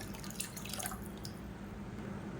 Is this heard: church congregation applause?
no